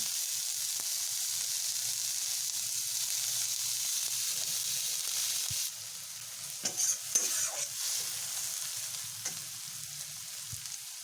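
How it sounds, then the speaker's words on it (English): Cauliflower frying in butter in a hot pan, a steady bright sizzle that drops slightly midway, with scattered scrapes and clinks of stirring near the end. "Now hot pan, add butter in it, fry cauliflower"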